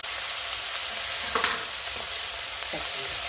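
Onion and green chillies fry in a hot pan with a steady, loud sizzle throughout, broken by a few soft stirring scrapes and clicks of a utensil.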